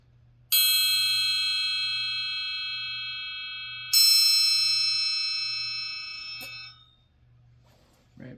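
A really big green triangle is struck twice a few seconds apart, each hit ringing out loud and bright with long shimmering overtones before the sound is abruptly damped, leaving near silence.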